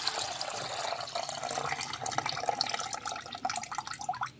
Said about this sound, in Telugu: నీళ్ళు వంపేస్తాం.